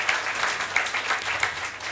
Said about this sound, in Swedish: Publikens jubel finns även när det inte handlar om fotboll.